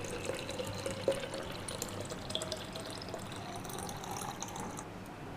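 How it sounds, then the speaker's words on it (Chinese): Shaken tea, ready for kumquat lemon tea, pours into a pot with sliced lime and kumquat inside, giving a soft, steady trickle with small splashes that fades a little near the end, quiet and without talk. "把摇匀的茶水倒入壶中"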